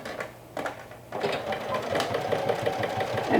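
A sewing machine stitching a bucket hat along piping, with a short burst, a pause, then a steady fast whirring run of stitches that continues to the end.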